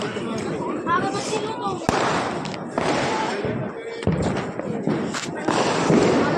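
Diwali fireworks and firecrackers going off nearby in a crowded spot, sharp bangs and thuds breaking through amid steady crowd chatter and talking voices.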